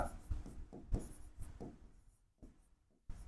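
Chalk or marker scratches across a classroom board in short, quiet strokes, several brief scraping bursts separated by small pauses.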